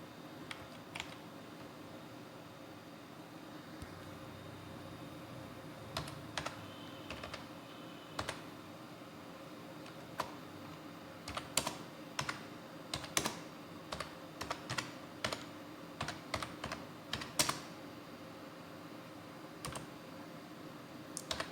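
Someone types text into Tux Paint on a computer keyboard in a quiet room, the keystrokes sparse and hesitant at first, then coming in quicker irregular bursts of close, crisp clicks.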